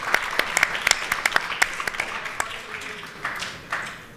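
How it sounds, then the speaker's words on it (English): At a New York dinner event, a room of guests applauds. Sharp individual claps stand out at first, then thin and fade into softer scattered clapping toward the end. "Round of applause for him."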